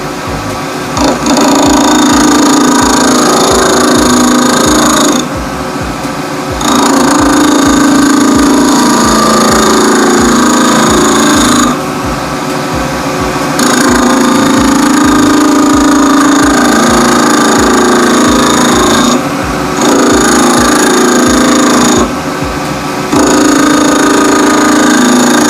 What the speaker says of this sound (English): I'm just going to try and see if I can get a bigger undercut with the spindle gouge.